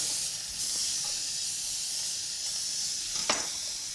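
Burgers sizzle steadily in a hot pan, a constant close hiss with a brief louder spurt of spitting fat near the end.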